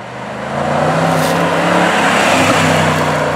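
A Jaguar XJ Supercharged sedan is driven hard, its engine swelling in after a quiet start into a loud, sustained supercharged drone with steady harmonic whine, close by and without talk.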